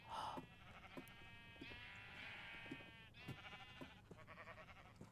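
Sheep in Minecraft bleat repeatedly, several wavering calls one after another, close and clear over a low ambient background with no talking.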